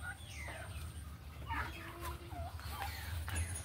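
Farm turkeys heard close with a mix of clucks, gobbling calls and chattering, several birds calling over a constant low background rumble.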